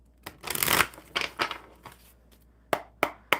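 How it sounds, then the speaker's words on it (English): Playing cards being shuffled by hand, a close, loud rustling riffle that fades out, followed by a few sharp taps and snaps as the deck is squared up, with no talking. "One more shuffle for Ashwin."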